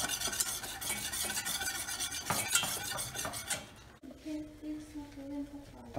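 Béchamel sauce of milk and flour being whisked in a pan, a steady brisk scraping and stirring that carries throughout, with a few utensil clinks, then quietens into a softer bubbling stir.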